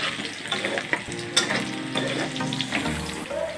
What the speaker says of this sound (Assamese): বৰ্তমান আমি মিঠাতেল অলপ দিলোঁ, তাৰপিছত পিঁয়াজখিনি ভাজি আছোঁ ধুনীয়াকৈ।